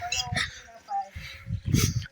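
A dog barks and yips a few times in quick succession, close and fairly loud, with a voice talking in between.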